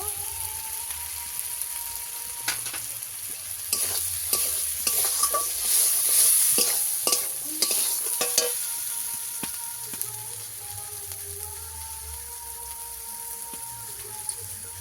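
Spices fry in a pan for a fish curry of fresh pond-caught rohu with potato and lentil dumplings, a steady sizzle broken by a busy burst of stirring clatter in the middle before it settles back.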